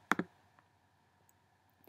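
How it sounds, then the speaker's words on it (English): A pair of quick, crisp mouse clicks close together at the start, followed by near silence with a faint tick. "I can just as easily restore this function with another mouse click."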